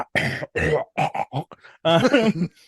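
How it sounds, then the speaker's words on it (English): A man clears his throat several times in a row, harsh raspy grunts close to the mic, with short pauses between each. "Clear my throat before I say this."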